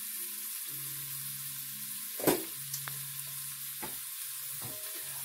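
Garlic sizzles in butter in a pan, a soft steady frying hiss with a few clinks and stirring scrapes, one sharper knock midway, and a faint background hum.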